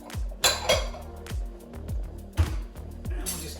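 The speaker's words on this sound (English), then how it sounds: "Give that a little stir." A utensil stirs warm olive salsa in a small pan, giving a series of light scraping and clinking knocks against the metal at a steady, unhurried pace, close by and moderately loud.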